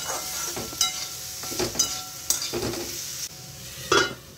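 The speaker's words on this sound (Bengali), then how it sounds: "এবার ঢাকা দিয়ে দিয়ে একদম লো টু মিডিয়াম ফ্লেমে আস্তে আস্তে পটলটা ভাজবো" Pointed gourd (potol) frying slowly in a covered pan over low to medium flame, with a soft steady sizzle and occasional stirring scrapes and clinks of a utensil against the pan.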